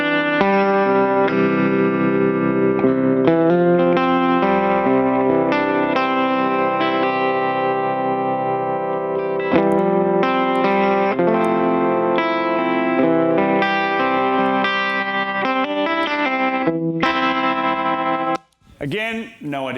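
Electric guitar chords and notes wash through heavy effects, shimmering with chorus and echo, sustained and layered, briefly cutting out near the end.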